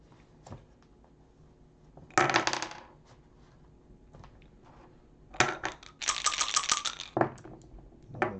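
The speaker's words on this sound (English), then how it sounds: "The dice are really going their way, Hal." Dice clatter in a tabletop baseball replay game, 1961 Detroit season, with two bursts of rattling rolls, one near 2 seconds and a longer, louder one from 5.5 to 7.5 seconds, close and crisp over a quiet room.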